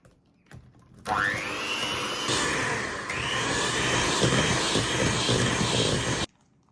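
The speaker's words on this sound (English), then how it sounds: "Now to add the eggs one at a time, mixing between each addition." Electric mixer beating eggs into sticky date pudding batter, a steady loud whirring drone that starts abruptly, shifts pitch slightly as the speed changes, then cuts off.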